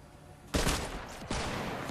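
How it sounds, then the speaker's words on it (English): Dualies, a video game gun that fires two bullets at a time, lets off two loud, rapid bursts of gunfire in quick succession, the second starting shortly after the first. "this gun shoots two bullets at a time"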